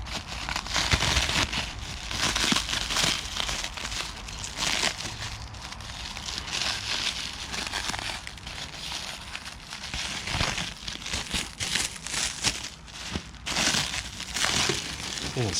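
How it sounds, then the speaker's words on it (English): Plastic saran wrap crinkles and crackles continuously as it is pulled off car trim parts for a 2007–2009 GT500, a busy close-up rustle with no talking. "Steve wrapped the shit out of these things with saran wrap."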